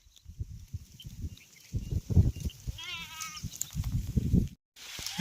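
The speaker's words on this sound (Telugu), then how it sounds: "గొర్రెలు అయితే ఇంత సొప్ప తిన్నగానే ఉరుకుతాయి." Sheep bleat in a village field, one wavering bleat rising above close rustling and munching sounds as the animals feed on fodder. Faint background noise runs throughout.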